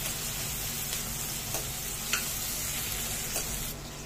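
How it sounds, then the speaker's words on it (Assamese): Ginger, garlic and cashews fry in oil in a pan, a steady close sizzle with occasional light stirring scrapes and no talking. "ইয়াৰ লগত গোটেইখিনি ভাজোঁ।"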